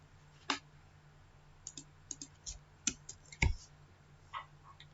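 Sharp, isolated mouse clicks at a computer running the Winbox router application, about eight quiet clicks spaced irregularly over a faint steady hum, with no voices.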